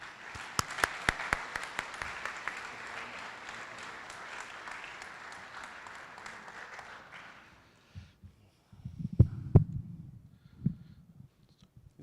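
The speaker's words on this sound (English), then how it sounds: "So please join me in a round, warm set of applause in welcoming Anthony to the podium." A convocation audience applauding a speaker at Westminster College, a sustained wash of many hands clapping for several seconds before stopping abruptly, followed by footsteps and faint handling noises in the hall.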